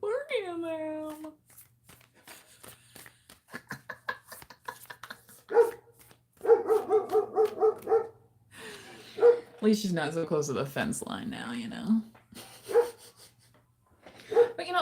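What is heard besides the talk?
dog barking at fence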